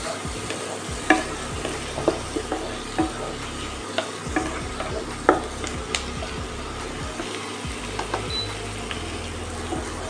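Onions fry in a pan on a gas or induction flame, a constant soft sizzle broken by irregular clicks and scrapes of a spoon stirring against the pan, close by with no voices.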